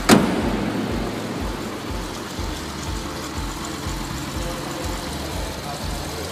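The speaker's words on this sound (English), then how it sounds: "As you can see, we just now start the car." A Mercedes 230SL Pagoda engine starts with a brief burst, then settles into a steady low idle with a rhythmic pulsing, close by and fairly quiet.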